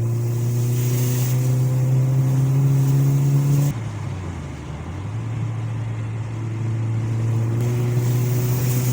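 A 1.8T car engine with a K04-064 turbo makes a steady loud drone from inside the car, dips briefly, then climbs again as the car pulls from about 2,500 RPM. No one talks.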